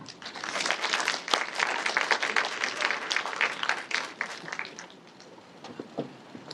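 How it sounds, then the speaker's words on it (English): An audience applauds Dr. Patrick John Lim at a food-writing event. The applause is steady and dense for about five seconds, with a few louder claps near the start, and thins out toward the end. "let's give a round of applause for Dr. Patrick John Lim"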